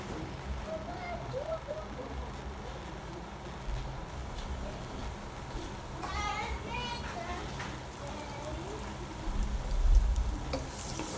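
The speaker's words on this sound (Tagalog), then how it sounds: "Una, magisa ng bawang sibuyas." Garlic and onion sauté in a pan for sinigang-style home cooking, giving a steady low sizzle and frying crackle throughout, with children's voices and chatter faint in the background.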